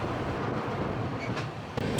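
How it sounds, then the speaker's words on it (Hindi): A Duronto Express train runs through Hazrat Nizamuddin railway station, with a steady, loud rumble of the train in motion and a brief sharp clank near the end. "ये हमारी train Hazrat Nizamuddin railway station skip कर रही है"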